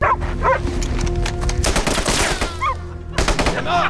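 Rapid bursts of gunfire crackle loudly in several volleys, with short pauses between clusters of shots.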